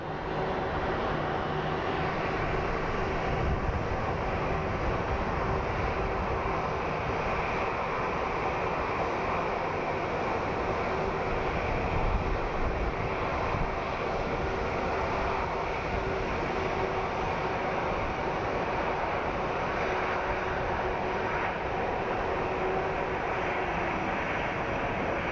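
An airliner on approach to land at Phoenix Sky Harbor, a steady broadband engine roar and rushing rumble that holds loud and constant throughout with no voices.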